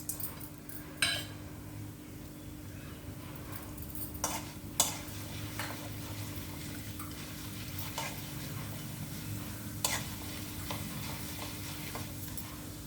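Urad dal and chana dal sizzle steadily in hot oil for a tempering in a potato chips fry masala curry, with a continuous frying hiss and occasional sharp clinks of a spoon against the pan.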